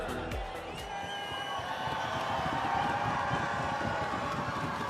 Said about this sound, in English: And the crowd is absolutely buzzing.